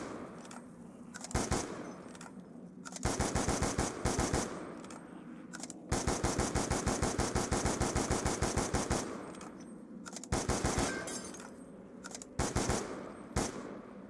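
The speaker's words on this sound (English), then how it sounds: "That's a nice reload sound there." Rapid automatic gunfire from the video game Black Ops 2, several loud bursts of fast repeated shots separated by short gaps, with longer sustained strings in the middle.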